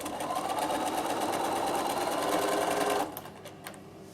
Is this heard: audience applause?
no